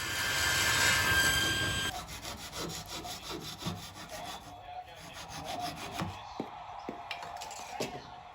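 A hand saw rasps through wood up close, finishing cuts on dresser parts: a loud stretch of cutting first, then quieter, rhythmic back-and-forth strokes continuing steadily.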